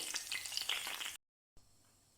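Battered chicken wings sizzle and crackle loudly in hot oil in a frying pan, then the sound cuts off abruptly and returns as a much quieter, faint sizzle.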